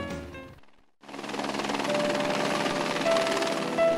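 A helicopter flying to Moorea throbs loud and steady after a brief quiet gap, its rotor and turbine noise filling the air continuously and close by.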